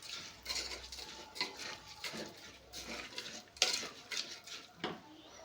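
Rice is stirred into a vegetable dal khichdi mixture in a pot, with repeated close scrapes and clinks of a spoon against metal, quiet and without talking.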